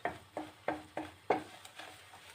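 Flour is roasted in a pan for Turkish flour halva, stirred in brisk strokes that give about seven quick scraping swishes, each a sharp onset that fades fast, close by and fairly quiet.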